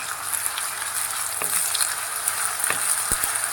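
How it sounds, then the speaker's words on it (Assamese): Ginger-garlic paste frying with onions in hot oil for a pork gravy, a steady close sizzle with occasional light scraping clicks of a stirring spoon, no voices. "তেতিয়া আদা নহৰু কেঁচা ভাৱটো যোৱালৈকে ভালদৰে এইটোকো ভাজি ল'ম।"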